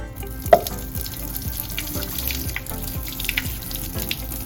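Hot pasta water pours from a pot through a clip-on strainer. A continuous splashing gush, like a running tap, is heard close up, and a faint rhythmic clicking repeats beneath it.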